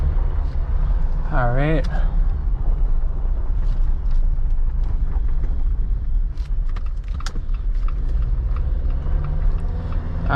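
A 2021 Jeep Wrangler Rubicon rolling over a gravel road, heard from inside: a low, steady road rumble with scattered crunches and rattles, while someone talks over it.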